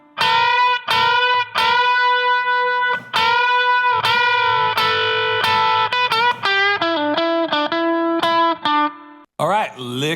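Overdriven electric guitar runs through a solo lick, ringing held notes giving way to faster picked runs, loud and up front, with a short voice at the very end.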